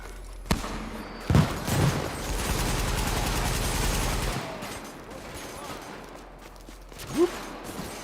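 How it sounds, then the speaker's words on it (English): Sustained automatic fire from an MG42 machine gun in the shooter game The Division, a dense rattling burst lasting several seconds after a few sharp single shots, moderately loud, with louder impacts near the start and end. "I do know it's an MG42"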